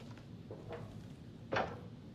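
A door in the video game Arena Breakout: Infinite gives a single soft, muffled knock or latch thud amid a low, steady in-game background hum, with fainter faint bumps shortly before it.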